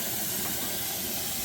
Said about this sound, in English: It's hard to see the steam, but see how vigorously it's coming out.